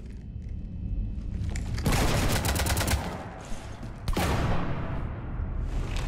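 Heavy sci-fi gunfire aboard a ship in Mass Effect 3, sustained rapid bursts with booming blasts that swell loudly, drop briefly, then resume in a dense continuous barrage.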